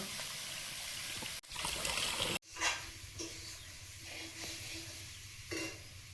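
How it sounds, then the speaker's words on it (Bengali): Lentils and broken wheat being washed in water, with steady trickling and sloshing, a couple of sharp knocks, then softer swirling and dribbling that continues to the end. "ডাল আর ডালিয়াটা ধুয়ে নেব।"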